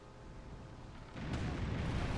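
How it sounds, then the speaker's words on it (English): A pirate ship fires a cannon in the game Tempest, a sudden loud booming blast midway that leaves a broad rumbling roar lingering afterward, with no talking. "Ooh, drive-by cannon shot."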